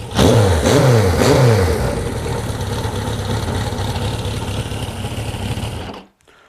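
A Suzuki GS1000 motorcycle engine, freshly carb-synced, blips through a few quick rising-and-falling revs close by, then settles into a steady loud idle before cutting off near the end.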